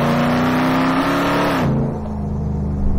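A Hennessy Mammoth truck accelerates with a loud, close engine roar that rises steadily, then drops abruptly at a gear change and keeps pulling.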